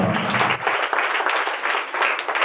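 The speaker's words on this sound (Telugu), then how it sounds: "అందరం చప్పట్లు కొడుతూ ఆహ్వానం పలుకున్నాం." Dense, loud applause fills a church hall as a crowd welcomes priests to a birthday celebration at Allipalli Mary Matha shrine, sustained and even from start to finish.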